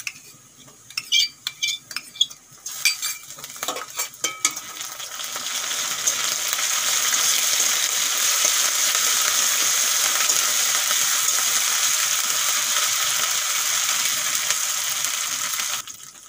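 Onions frying with ginger-garlic paste in a pan for an egg and masoor dal dish, opening with a few metallic spatula clinks and scrapes, then a steady, fairly loud sizzle that runs on alone.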